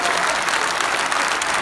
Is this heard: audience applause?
yes